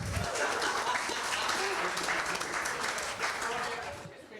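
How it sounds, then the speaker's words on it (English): Steady, dense applause fills a wedding reception hall, a crowd clapping continuously and loudly before tapering slightly at the end, with voices mixed in. "Another round of applause for Lisa, everybody."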